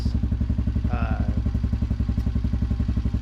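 A 250cc Chinese dual-sport motorcycle with an aftermarket exhaust idles with a deep, rapid, choppy exhaust pulse, loud and steady throughout, with a brief voice partway through.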